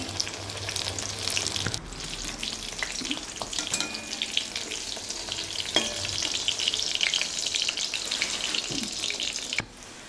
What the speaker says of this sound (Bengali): ব্যাটারে দিয়ে আবার দুটো বড়া করে নিচ্ছি